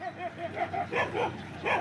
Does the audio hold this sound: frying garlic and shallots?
no